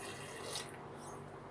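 Water is poured out of a cup into another container while pepper seeds are being prepared, a soft, faint trickling splash that fades quickly.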